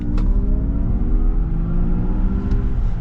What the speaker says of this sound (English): Not bad acceleration. It's not a fast car, I would say, but it's pretty darn peppy.